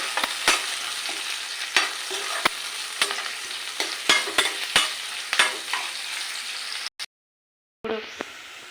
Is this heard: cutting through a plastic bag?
no